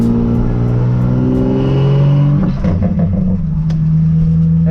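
A car engine revs hard as it sets off, a loud low harmonic roar that climbs, drops back and settles into a steady drone, heard up close with no talk.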